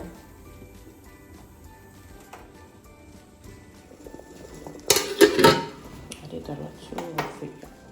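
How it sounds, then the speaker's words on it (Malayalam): Quiet kitchen background, then a small metal pan used for spluttering mustard seeds clanks and rattles loudly for a moment, followed by softer knocks and clinks. "ഞാൻ ചെറിയ ഈ കടുക് പൊട്ടിക്കുന്ന പാത്രം എടുക്കുന്നത് കേട്ടോ"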